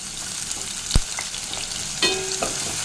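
Steady sizzling of onion frying in hot oil, with a couple of sharp clinks from a utensil stirring the pan.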